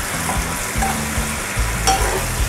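Masala Maggi noodles sizzle in oil in a pan, a loud, continuous crackling fry close up, with low intermittent stirring clatter beneath.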